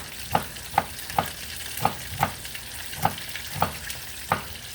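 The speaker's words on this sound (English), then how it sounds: "Got my onions going." Onions sizzle in a frying pan while a utensil stirs them in regular strokes, a soft, steady crackle broken by repeated scraping taps. Nobody speaks.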